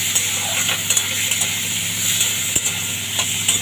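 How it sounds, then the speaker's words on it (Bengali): Prawns frying in mustard oil in a pan, a dense continuous sizzle with occasional light clinks of a utensil, close and loud. "এবার আমি চিংড়ি মাছটা দিয়ে দেবো। হালকা করে ভেজে নেব।"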